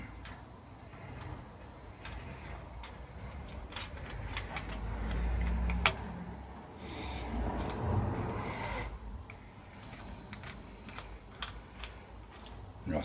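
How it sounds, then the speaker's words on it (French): Ratcheting clicks from tightening a screw on a motorcycle front fork during a fork seal replacement, a close, quiet run of small mechanical ticks and clacks with no talk. "Et cette vis, principalement, voilà, on va la visser tout de suite."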